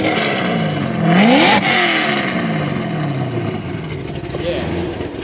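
A lumpy-idling car engine revs in a few loud, rising pulls, then drops back to a rough idle, while people talk nearby.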